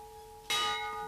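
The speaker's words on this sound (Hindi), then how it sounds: "घंटी की आवाज में जो दर्द है उससे जाहिर होता है कि जरूर कोई फरियादी आया है।" A palace bell, rung by a petitioner, gives a single bright clang that rings on steadily over a faint background hum.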